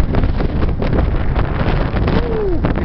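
Gusty wind buffets the microphone beside a flooded, overflowing river in East Haven, a steady loud rushing roar with a faint short whistle-like tone late on.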